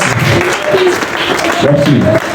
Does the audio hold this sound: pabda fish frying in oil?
no